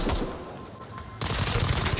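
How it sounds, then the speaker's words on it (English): Faint game gunfire rattles at first, then a sudden louder burst of rapid shots erupts and keeps going to the end. "Gunfire there."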